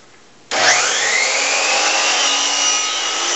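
Hand saw cutting wood along a marked kerf in furniture making, a sudden start into a steady close rasping stroke sustained for about three seconds.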